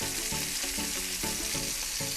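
Steak frying in butter as garlic is rubbed against it: a loud, close, continuous sizzle and spatter, with a low rhythmic pulsing of the fat bubbling under it.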